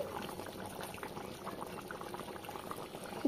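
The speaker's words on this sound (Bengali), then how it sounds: "এরপর গ্যাসের ফ্লেমটা বাড়িয়ে দিয়ে ঝোলটা ভালো করে ফুটিয়ে নিচ্ছি" Chicken curry gravy bubbling hard on a high gas flame, a steady, fairly faint close simmer of popping bubbles with no voices.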